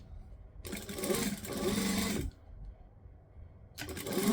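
A sewing machine stitches rayon fabric for wrap pants, running in two steady bursts of fast, whirring mechanical rhythm with a brief quiet pause between them, close and fairly loud.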